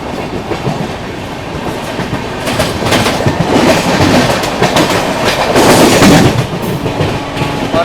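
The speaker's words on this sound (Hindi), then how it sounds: "डिब्रूगढ़ राजधानी एक्सप्रेस" The Dibrugarh Rajdhani Express thunders past close by, a loud rolling roar of coaches with rapid, uneven wheel clatter and sharp bangs over rail joints, building toward the end with no talk over it.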